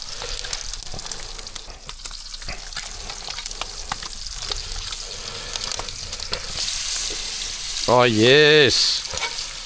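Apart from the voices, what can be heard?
bacon frying in salted butter over a fire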